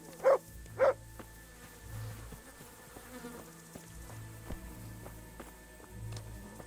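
Two short, sharp dog barks from a dog in Kingdom Come: Deliverance, fairly close and spaced about half a second apart, followed by quiet ambient game background with faint footsteps and small rustles.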